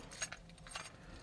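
A set of keys jangles in a few short, faint metallic rattles, heard alone with no talking.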